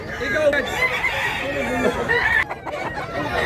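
A rooster crows near a busy market in Mantalungon, Cebu, amid a crowded, noisy background with people talking.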